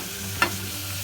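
Pork and onion are stirred in a pot for tonjiru, a steady sizzle underneath with a single short scraping stir, close and fairly faint.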